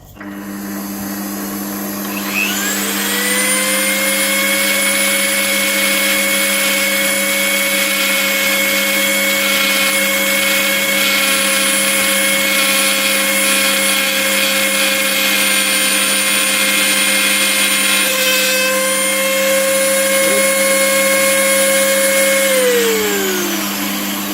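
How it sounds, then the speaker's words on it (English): A titanium ring blank is ground level on a powered abrasive, a loud, steady, high whine with a constant hum beneath it that runs nearly the whole length and tapers as the tool winds down. "I'm going to grind this somewhat level, and then we'll start shaping the ring itself."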